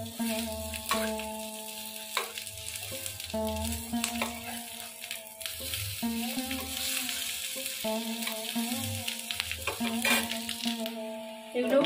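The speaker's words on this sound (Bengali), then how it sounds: "বাকি যেগুলো আছে সেগুলো আমি এইভাবেই ভেজে নেব" Pumpkin-leaf fritters coated in gram-flour batter fry in a pan with a steady oily sizzle, while a utensil clinks and scrapes now and then and a faint tonal background plays underneath.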